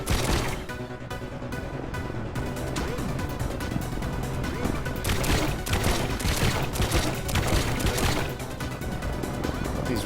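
Weapons fire in a continuous loud barrage as a buggy gets shredded in the vehicle-building game Trailmakers, with dense overlapping shots and crashing impacts sustained throughout.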